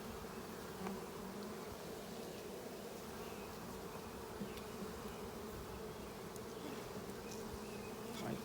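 Bees buzz steadily while a swarm colony is opened for inspection, a dense, continuous hum of many insects at even loudness, with faint clicks of handling and no talk.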